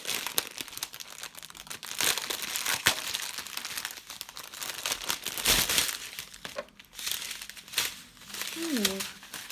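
Small bags of diamond painting rhinestones are torn open and handled, making close, continuous plastic crinkling and rustling with a faint rattle of tiny beads. Someone talks over the crinkling.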